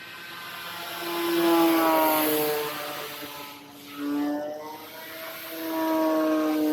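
An E-Flite Night Timber X electric RC plane on a 4S battery at full throttle, motor whine swelling and fading with Doppler pitch shifts as it makes repeated flybys, moderately distant.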